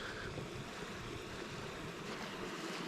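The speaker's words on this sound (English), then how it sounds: "we get some wind" Wind blows outdoors on a sheltered hillside, a faint, steady broadband rush with soft gusty buffeting and no talking.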